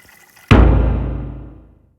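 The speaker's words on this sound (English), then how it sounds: "we have water that we have pre-chilled, had it in the freezer for about an hour, so we're going to pour that in there" Pre-chilled water poured into hot beer wort while homebrewing a pale ale: a sudden loud splashing rush that starts abruptly, then fades steadily over about a second and a half.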